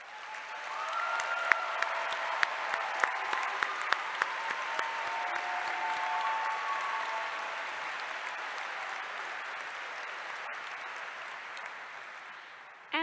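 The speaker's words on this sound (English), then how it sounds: "please stand as you are able and be recognized by our applause." Applause at a 2022 college commencement ceremony for the College of Arts and Letters: a large audience clapping steadily for about twelve seconds, dense and sustained, fading slightly near the end.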